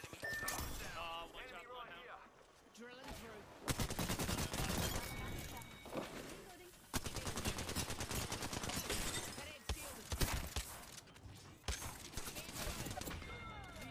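Bursts of video game gunfire crackle in rapid volleys across the clip, loud and sustained, with brief pauses between strings of shots and a voice speaking over them.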